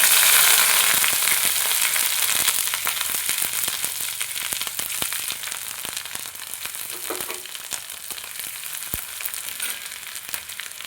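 Bay leaf, dried chili, asafoetida and ginger fry in hot oil with a steady, loud sizzle and crackle that eases slightly after the first few seconds, dotted with sharp pops throughout.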